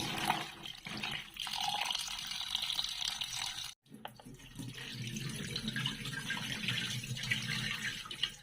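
Bok choy is washed under a running kitchen tap, a continuous splashing rush of water with rustling leaves, briefly cut off for a moment midway before resuming, fairly quiet and close with no talking.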